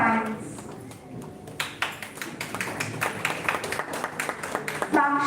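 An audience at a national oratory contest breaks into applause after a speaker's quiet voice, the clapping rising and becoming dense, crisp and sustained for several seconds.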